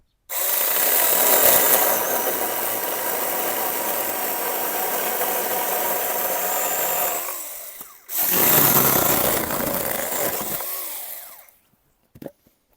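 A cordless battery saw whines steadily as it cuts a wooden board to 1.45 metres, pausing briefly midway before a second cutting pass, then a few clunks as it stops.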